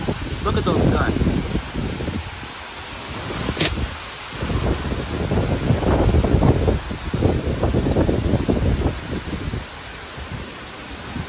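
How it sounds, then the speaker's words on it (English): Strong wind gusts at night during a downburst storm, a dense roaring rush that surges and eases in waves and buffets the microphone, with rain and storm noise mixed in throughout. "the winds cranked high"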